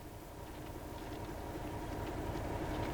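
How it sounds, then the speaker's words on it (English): A British Rail Class 31 diesel locomotive in the Train Sim World 2 game on the Tees Valley Line runs with a steady low engine drone and rail rumble, gradually growing slightly louder. "It's now time to run the locomotive around the train."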